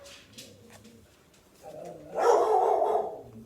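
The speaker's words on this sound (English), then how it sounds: "Excuse the barking." A dog barks in a burst of loud, rough noise near the end, after quieter indoor sounds with a few faint yips or whimpers earlier.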